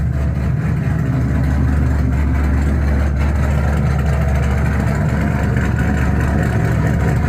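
A deep 3-valve V8 engine idles loudly and steadily up close just after startup, a continuous lumpy low rumble with no voices.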